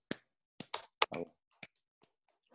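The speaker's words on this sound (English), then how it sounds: "clap awkwardly" A handful of sparse, separate hand claps at the close of a mathematics seminar talk on pretzel knots, irregular and faint, with long quiet gaps between them.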